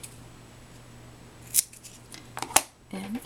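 Scissors snip through cardstock for a beach-themed wedding card, two or three sharp, close cuts spaced apart in an otherwise quiet room, with faint rustling of the paper between them.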